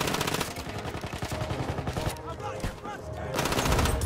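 Glock 18 pistol fired in Battlefield 1, with dense rapid automatic bursts crackling continuously over game battle noise and distant explosions, loud and close throughout.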